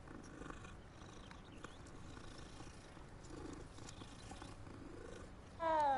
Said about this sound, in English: Hey, look, it's a kitty.